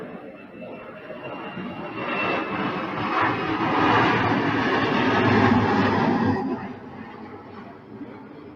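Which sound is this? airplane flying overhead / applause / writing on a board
airplane flying overhead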